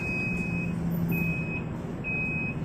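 A Transjakarta MetroTrans city bus sounds its reversing alarm in a few evenly spaced high beeps over a low, steady engine rumble, with no talk.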